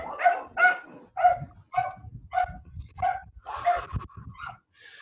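Neighbor's puppies barking in a rapid run of about nine high, yappy barks, fairly close and steady in rhythm, with faint low voices murmuring underneath.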